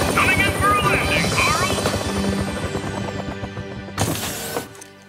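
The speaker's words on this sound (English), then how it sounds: "Is that Hector's helicopter? Coming in for a landing" A cartoon helicopter's rotor thumps and whines loudly and steadily as it comes in to land, with a sudden bright crashing burst near the end.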